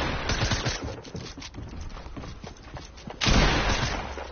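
Rapid video game gunfire in a dense crackling stream, followed by a louder heavier burst near the end, close and continuous without talk.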